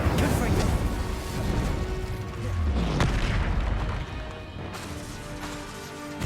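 Booming spell blasts of Confringo and Incendio in the video game Hogwarts Legacy, a steady stream of loud crashing explosions and impacts, with a voice calling out spell names over the din.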